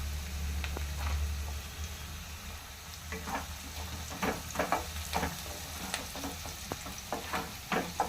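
Carrot fry with green chillies, ginger and garlic is stirred in a hot pan, a soft sizzle under repeated scraping strokes of a spoon that grow busier partway through, with a low hum beneath and no talking.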